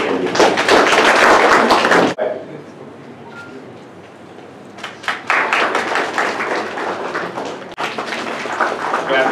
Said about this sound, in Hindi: तो उनके एफर्ट्स के लिए प्लीज ताली बजाते रहो